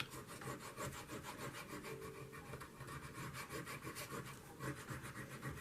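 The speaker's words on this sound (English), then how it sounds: "Burnish, burnish, burnish." Steady rubbing of a burnishing tool across a surface, a continuous close-up scraping rasp with a gently pulsing rhythm.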